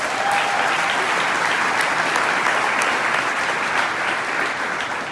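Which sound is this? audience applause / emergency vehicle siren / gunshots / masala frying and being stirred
audience applause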